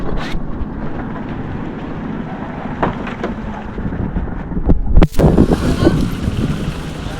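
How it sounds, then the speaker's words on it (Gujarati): Strong gusty wind on a farm as the weather turns before a rainstorm, loud and blustery, buffeting the microphone with a continuous low roar and one sharp break. "વાતાવરણ જો પલટી ગયું છે ને પવન આવે છે"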